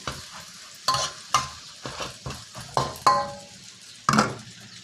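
Soaked rice noodles for pad see ew stir-fried over medium-high heat, with repeated scraping strokes of a spatula against the pan in an uneven rhythm over a steady sizzle and occasional metallic clinks, close and clear with no talking.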